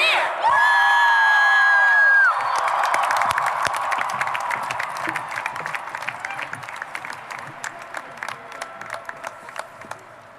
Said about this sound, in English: We're the class to scream and cheer!